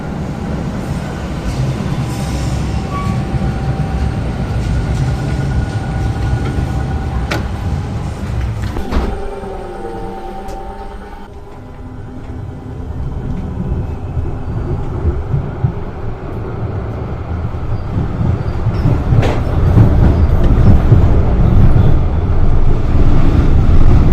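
A high-floor meter-gauge tram in Essen rumbles along steadily on dual-gauge track with low rolling wheel noise, occasional clanks and squeals, the rumble swelling louder toward the end; no talking.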